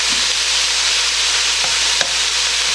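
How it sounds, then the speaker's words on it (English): Celery, onions and carrots sautéing in a pot for homemade bean soup, a steady loud hiss of frying with one or two faint clinks of a utensil. "Basically what it's doing is starting to soften the celery and the onions, make the onions translucent"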